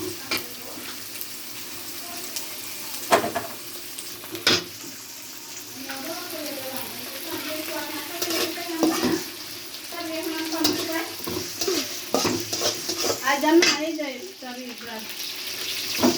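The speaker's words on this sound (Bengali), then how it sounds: "চিংড়ি মাছটা একটু ভাজা ভাজা হবে।" Shrimp fry in a pan for a Malabar spinach and shrimp dish, giving a steady sizzle broken by stirring scrapes and clanks, with faint voices now and then in the background.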